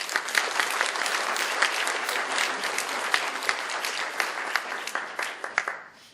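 Audience applause at a donor reception, a full, continuous roll of clapping with sharp individual claps standing out, tapering off near the end.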